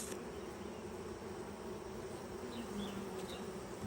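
Honey bees buzz continuously during a hive inspection, a dense, close, even drone with no pauses and no voices.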